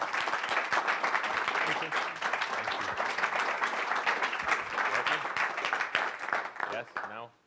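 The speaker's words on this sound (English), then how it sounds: "I want to give just one more round of applause for Sherry and Tony" Audience applause at an event for two honored guests, a broad, continuous wash of clapping with voices mixed in, holding steady before tapering off at the end.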